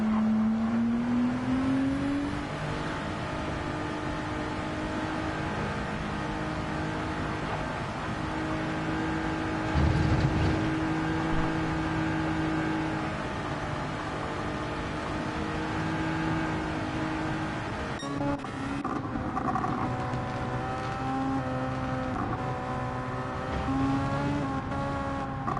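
Race cars in a Formula racing video game circle at steady speed behind a safety car, their engines a continuous droning whine that shifts pitch now and then, with no one speaking.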